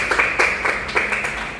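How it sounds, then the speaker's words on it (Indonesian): Brief burst of audience clapping in a classroom or school gathering, a short ragged patter of hands lasting under two seconds with no talk over it. "Baik, tepuk tangan dulu."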